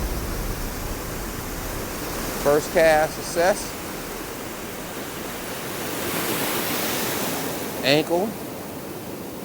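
Surf on the Oregon coast rushes steadily as a broad, even wash of waves throughout, with a person speaking briefly in short phrases over it.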